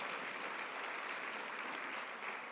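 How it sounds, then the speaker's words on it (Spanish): Steady, even clapping from a congress audience honoring a speaker at a regulatory-quality event, sustained throughout at moderate distance. "les pido a ustedes un fuerte aplauso para ella"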